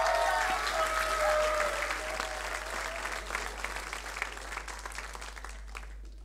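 A festival crowd applauds the Rocket Kids dance group at RGAF 2023, a broad wash of many hands clapping and cheering that slowly fades, with a short musical tone at the start.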